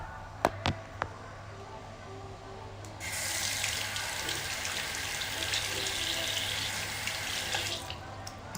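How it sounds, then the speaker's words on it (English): A kitchen or bathroom tap runs steadily for about five seconds while a finger is rinsed beneath it, a broad hiss of flowing water, preceded by a few faint clicks and knocks. "Just gonna wash mine. Wash my finger."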